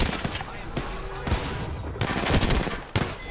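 Rapid gunfire bursts from the video game Apex Legends, loud sharp shots repeating in clusters across the clip, with a player's voice underneath.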